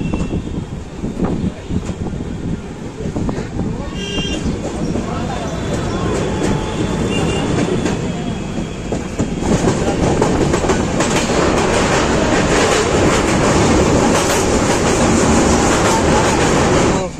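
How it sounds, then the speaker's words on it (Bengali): Jammu Tawi Express passenger train pulling out and running on the rails, loud continuous rumble and rhythmic clickety-clack heard from inside a carriage, growing louder as it gains speed, with faint voices. "ট্রেন আমাদের ছেড়ে দিয়েছে"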